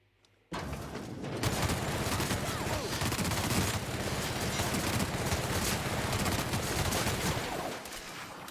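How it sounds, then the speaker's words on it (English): A dense, continuous barrage of rapid gunshots from the video game The Outer Worlds erupts suddenly and keeps going for about eight seconds, crackling and loud throughout. "Gunfire on!"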